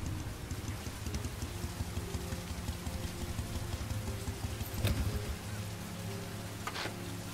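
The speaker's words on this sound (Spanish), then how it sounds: "No ha parado de llover todo el día." Steady rain falls in the video game Heavy Rain, a dense, continuous hiss close by with a low rumbling bed and a brief louder swell partway through. No one speaks.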